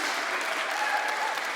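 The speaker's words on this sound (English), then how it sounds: "Let's give him a big round of applause" Applause from a church congregation during a live-streamed service, a steady, dense wash of clapping lasting under two seconds with no pauses.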